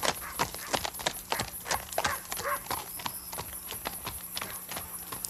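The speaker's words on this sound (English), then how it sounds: "So we have a guy riding up to a building on a horse" A horse carries a rider up to a building in an old-time western film scene, its hooves clip-clopping in a steady, fairly close rhythm throughout.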